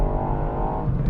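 Three-cylinder engine of a Ford Fiesta ST hot hatch drones steadily under load, a close, sustained low hum with no talking.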